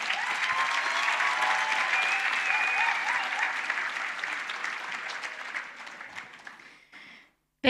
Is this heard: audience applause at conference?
yes